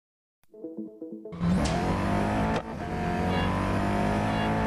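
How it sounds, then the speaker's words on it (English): Koenigsegg Jesko engine in Real Racing 3, stock car in an all-in-or-out event: a short stuttering idle blip gives way to a loud, sustained high revving roar with a brief gear-change dip midway. "This is Real Racing 3 and I'm running the Koenigsegg Jesko in the all-in or out event"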